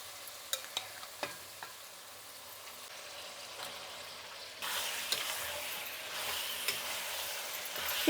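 Chicken frying in a kadai for a Tamil Nadu-style black chicken dish gives off a faint, steady sizzle. A few sharp clicks come early and the frying grows louder midway, with no talking.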